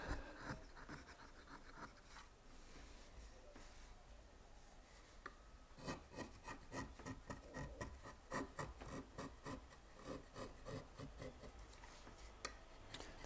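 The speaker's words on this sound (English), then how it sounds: "We're filing down the gentle edges." Hand filing along the gentle edges of a carved woodblock for Japanese printmaking, a close, fairly quiet rasping in short rhythmic strokes that grow steadier and more regular in the second half.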